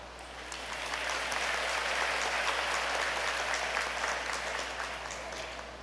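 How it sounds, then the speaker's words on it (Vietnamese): Congregation applause at the opening of a Marian Day Mass, a broad, steady clapping from a large crowd that swells in, holds for several seconds and tapers slightly, with no talk over it. "xin không vỗ tay nữa"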